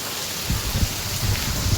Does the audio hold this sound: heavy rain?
yes